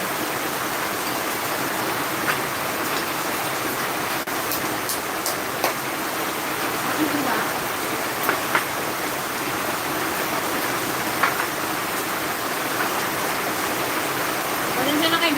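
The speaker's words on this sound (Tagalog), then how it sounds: "Umulan, malakas ang ulan." Heavy rain pours steadily at an outdoor spot where dragon fruit grows, a dense, continuous hiss with occasional louder drops spattering close by; a voice is faintly present beneath the downpour.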